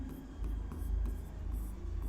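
Pen writing on a board or paper during a Hindi maths lesson on Euclid's division algorithm, a steady faint scratching that runs continuously through the clip with low room hum underneath.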